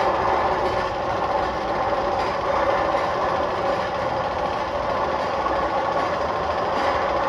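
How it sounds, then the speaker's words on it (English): Magnum XL 200 roller coaster train running at Cedar Point, heard as a steady, continuous rumbling roar with rail noise, holding an even loudness throughout with no voices. "Oh look, an open roller coaster."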